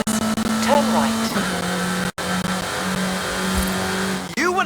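A car engine in the racing game Forza Horizon 5 holds a steady drone and then revs up, with a tire squeal and a sharp cut in the sound, while voices talk over it.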